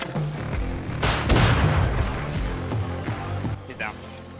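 Rapid gunfire in the survival game Rust, a dense burst of overlapping shots at fairly close range, with players talking over it.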